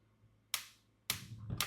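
A kitchen stove is lit for cooking Kerala prawn pickle, giving three sharp clicking ignition snaps, the last two followed by a soft burst of flame.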